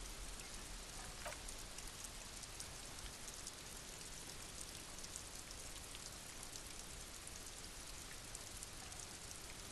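Steady rain falls throughout in the video game Disco Elysium, a dense, even patter of drops with no voices or other sounds breaking through.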